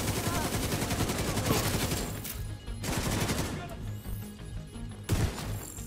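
Rapid automatic gunfire from an LMG in the shooter game The Division 2, sustained and loud with dense rattling bursts, brief gaps, and a heavier blast near the end.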